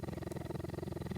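A cheetah purring close up, a rapid rhythmic rumbling pulse repeating evenly for about a second, loud and alone.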